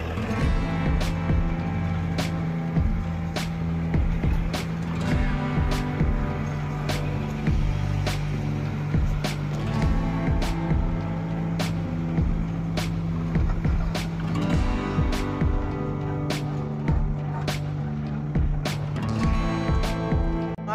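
A Kubota 4501 tractor driving along a farm track toward the field, a steady engine drone with rattling and clanking bumps throughout, close and continuous.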